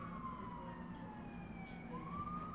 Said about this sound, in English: There's a lot of sirens behind me again.